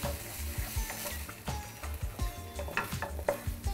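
Poppy seed paste for Bengali dim posto fries in a pan as it is stirred, a soft continuous sizzle broken by repeated scraping strokes and light clinks of a spatula against the metal, close and moderately quiet.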